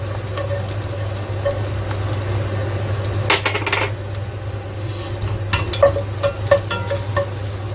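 Chopped garlic sizzles in hot oil in a home wok, a steady close frying crackle with a low background hum and scattered clinks and scrapes of a spatula against the pan.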